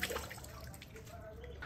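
Water runs steadily from a wall-mounted mixer tap set to blend hot and cold, a smooth, close hiss of flowing water without pause.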